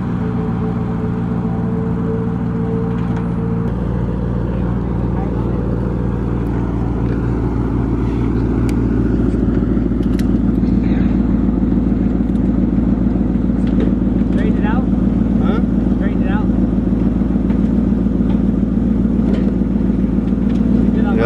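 A Maserati on its stock exhaust drives along with a steady engine drone that swells slightly as it pulls, while people talk over it inside the car.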